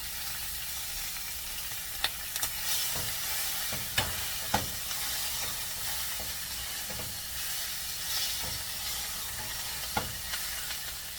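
Gluten-free homemade taco filling fries in a pan on low heat, a steady close sizzle broken by occasional sharp clicks of a utensil or smasher against the pan, with no talking.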